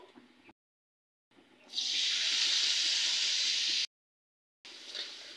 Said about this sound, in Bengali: এখন আমি সুন্দর মতো মশলাটাকে কষিয়ে নেব